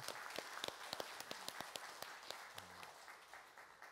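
A political party audience at a proportional-representation candidate debate gives a round of applause, faint and distant, with many distinct claps in a loose, quick rhythm that gradually softens.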